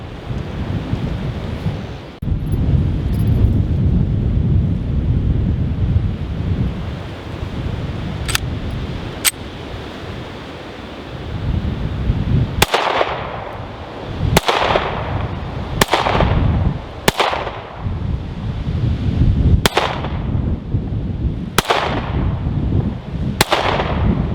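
A Smith & Wesson EZ pistol fires the 30 Super Carry cartridge outdoors. About seven sharp, loud reports come at irregular intervals of one to two seconds over steady wind noise, with no talking.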